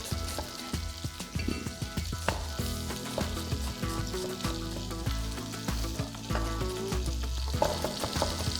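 Peppers frying in hot oil in a pan, a steady close sizzle with crackling pops and occasional stirring clatter, no voices over it.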